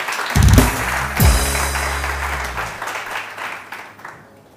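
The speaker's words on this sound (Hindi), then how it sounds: "तहरीम के लिए बहुत सारी तालियाँ" Morning TV show studio audience claps for an arriving guest, dense applause swelling twice near the start with a musical sting, then tapering off steadily.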